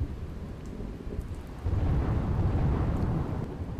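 Unseasonal winter downpour in Gujarat pours in a dense, steady hiss while a low thunder rumble swells partway through and lingers, with no voices.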